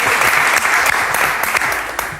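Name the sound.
Benfica fans applauding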